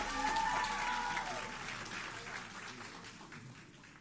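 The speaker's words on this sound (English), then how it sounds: "Please give him another round of applause." Audience applause at an oratorical contest for a winner, a dense steady clapping that starts loud and gradually fades over four seconds, with a faint voice briefly under it.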